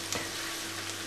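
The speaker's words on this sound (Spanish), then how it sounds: "vamos a dejar sofreír la cebolleta" Green onion and eggplant fry in a pan with a dense, steady sizzle and crackle, close and continuous throughout the brief moment.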